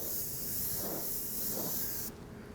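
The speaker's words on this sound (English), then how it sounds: "This is still spraying really nice." Steady hiss of a spray gun spraying opaque white paint continuously, close and fairly loud, cutting off abruptly near the end.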